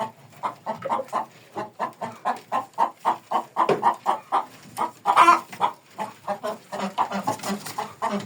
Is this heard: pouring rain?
no